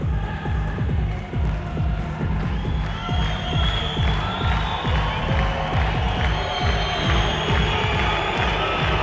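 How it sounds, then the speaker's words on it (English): A crowd at a heavyweight kickboxing event roars and cheers loudly and continuously, with rhythmic clapping or stomping and rising shouts in a large arena. "As you can hear the crowd just going absolutely crazy here."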